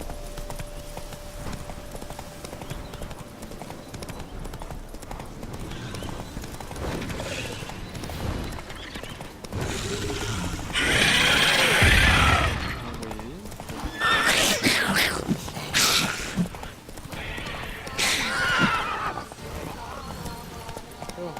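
Roach the horse trots with steady clip-clop hoofbeats on ground in Witcher 3, accompanied by whinnies and bursts of in-game noise, while a person talks over the action.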